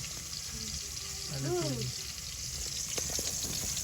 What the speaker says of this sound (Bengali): তো তেল হয়ে গেছে, এখন ইচা মাছগুলো দিয়ে দিতেছি।